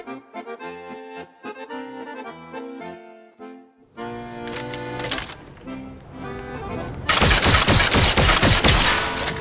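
Rapid-fire rockets in The Outer Worlds 2 launch in quick succession, a loud burst of overlapping blasts that builds into a dense, roaring barrage after a stretch of musical tones.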